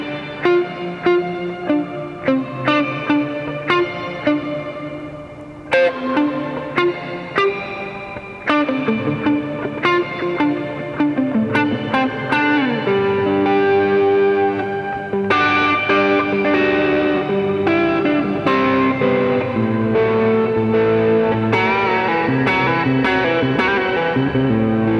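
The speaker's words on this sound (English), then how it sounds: "one of them is the plateau reverb, which is great for creating big textures and soundscapes" Line 6 HX Effects plateau reverb wash over played notes, building a dense, shimmering ambient texture with distorted, echoing layers that swell and sustain continuously throughout.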